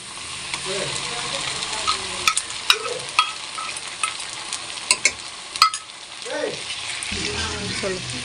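Ginger garlic paste sizzles and fries with golden onions in a pan for chicken biryani, a steady close hiss broken by repeated stirring clicks and scrapes, with no talking.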